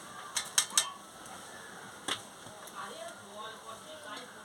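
A metal pot knocks and clatters onto a wood-fired stove with a few sharp clanks and a later single clink, set up for boiling potatoes and jackfruit, against a quiet kitchen background.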